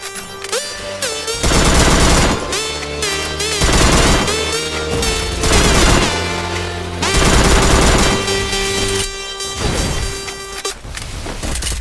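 Gunfire in a shooter video game, with rapid automatic bursts and single shots repeating loudly over about twelve seconds, set against steady game tones and music.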